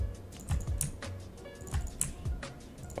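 Keyboard keys and mouse buttons click while Alt is held down during Photoshop editing, giving a quick irregular run of light close taps with no voices.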